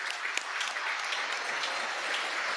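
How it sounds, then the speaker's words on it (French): Applause at a talk on child sexual abuse, a sustained, even wash of many hands clapping at moderate distance with no voices over it. "Oui, applaudissements."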